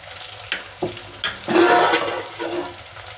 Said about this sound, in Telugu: ఉల్లిపాయ గోరుచిక్కుడు ఫ్రై అయిందేమో అంటే కొద్దిగా ఫ్రై అయింది